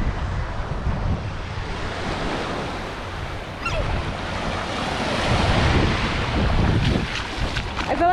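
Surf washing onto Doctor's Cave Beach in Montego Bay, Jamaica, with steady wind buffeting the microphone, a continuous loud roar that swells toward the end, with no talking.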